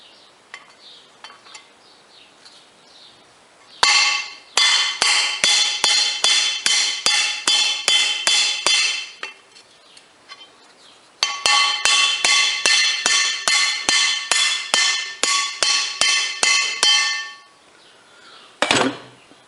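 Rapid metallic hammering on a socket to tap a bearing into a Puch 4-speed engine, two long runs of sharp ringing clangs at a steady rhythm, close up, followed by a single final strike.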